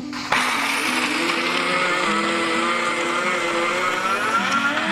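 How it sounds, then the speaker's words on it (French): A small electric blender starts abruptly and grinds walnuts finely, a loud, continuous whirring motor whine that stays steady for several seconds with no talking. "Du coup, on va commencer par mixer les noix."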